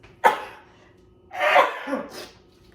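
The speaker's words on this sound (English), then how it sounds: "I have to sneeze." A single sharp sneeze bursts out, then a second breathy explosive sound follows a second later, close and fairly loud with quiet between.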